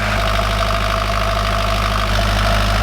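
A boat's engine runs steadily at idle, a loud, continuous low throb with a fast regular pulse, close by and with no talking over it.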